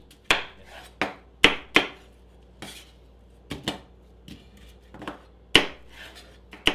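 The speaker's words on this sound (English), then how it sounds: "let's just take off the bulk of the apple meats and get them chopped" A knife chops apple flesh on a board in about a dozen sharp, close, irregular knocks with short pauses between bursts and no talking.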